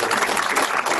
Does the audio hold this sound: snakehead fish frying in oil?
no